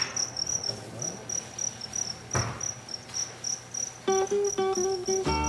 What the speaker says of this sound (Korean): 그리고 귀뚜라미입니다.